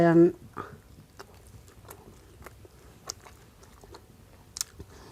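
Someone eating som tam papaya salad with crab and fermented fish, with soft, scattered crunchy bites and chewing close to the mic after a brief voice at the start.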